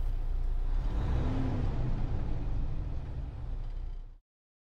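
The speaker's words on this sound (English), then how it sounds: "Practice revving the engine until you're consistently hitting the sweet spot." Howo truck with a 10-speed gearbox, its engine revving in a steady, loud, sustained roar close by that holds for about four seconds before cutting off abruptly.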